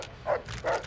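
Two short, muffled dog barks from the game Fallout: New Vegas, spaced about half a second apart and moderately loud over a low, steady background.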